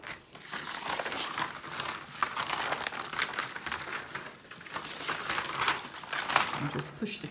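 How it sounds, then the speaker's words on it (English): Paper backing peeled from a diamond painting canvas, a close, continuous crinkling and rustling with brief louder crackles, running throughout. "I'll peel back the paper and reveal where we're up to this week."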